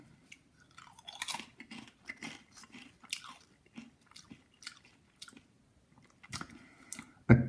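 Close, quiet crunching and biting of red beet kettle chips, irregular crisp snaps followed by steady chewing, with no talking.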